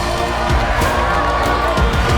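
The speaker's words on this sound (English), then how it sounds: "Listen to the crowd." Crowd cheering, a dense steady roar of voices with no breaks, loud and sustained over background music.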